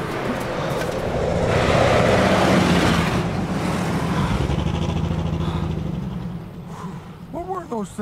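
Several cars drive past in an old-fashioned setting, their engines swelling to a broad, rumbling roar that builds and then fades. Voices and bits of cartoon-like sound effects come in over it near the end.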